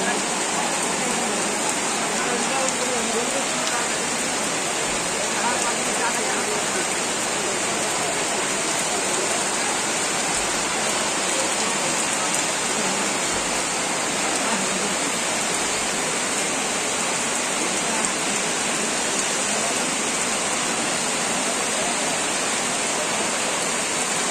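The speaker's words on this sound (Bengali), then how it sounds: "নামছে বৃষ্টি" Steady, loud rain pours across an open village market, a dense even hiss that runs unbroken for the whole stretch with no clear voices above it.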